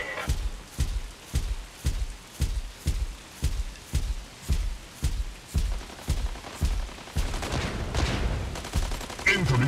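Mech gunfire in the mobile game Mech Arena: a steady, evenly spaced series of heavy blasts, roughly two per second, loud and close, thickening into a denser wash of fire and explosions toward the end.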